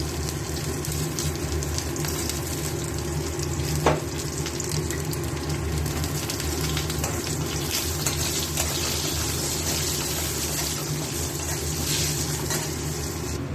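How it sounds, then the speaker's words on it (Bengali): Potatoes fry with salt in a pan, giving a steady, moderately loud sizzle over a constant low hum, with one brief knock partway through and no talking. "নুন দিয়ে আলুগুলো ভেজে দেবো।"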